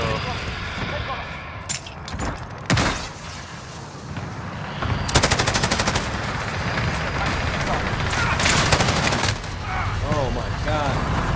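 Gunfire in Call of Duty: Modern Warfare, with a new LMG shooting into thick smoke: scattered sharp cracks, then dense rapid automatic bursts, loud and close over a busy battlefield background.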